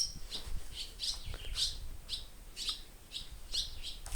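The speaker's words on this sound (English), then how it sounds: "Lots of birds." Many birds chirp inside an old abandoned building on North Manitou Island, short bright tweets repeating in quick irregular bursts, fairly close and moderately loud against a quiet room.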